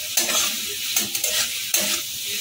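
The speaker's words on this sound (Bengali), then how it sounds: "এবার কুচনো ধনে পাতা এর মধ্যে আমি দিয়ে দিলাম। একটু ভালো করে নেড়ে ছেড়ে নেব।" Chopped coriander stirred into an egg curry frying in a pan, a loud close sizzle broken by three or four rough scraping strokes of the spoon, no talking.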